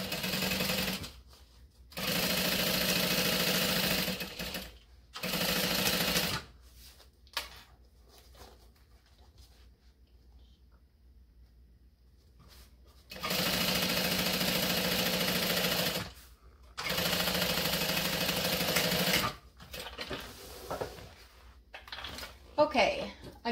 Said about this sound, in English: We're going to stitch all the way down.